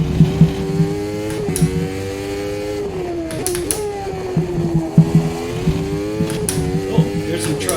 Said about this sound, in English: God, this car just sounds horrible.